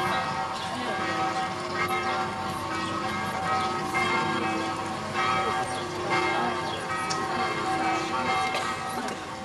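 A church bell rings on a Sunday afternoon in a village square, its steady tolling and lingering hum clear over a faint background murmur and a voice speaking.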